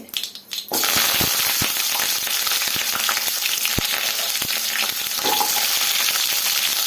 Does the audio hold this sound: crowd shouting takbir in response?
no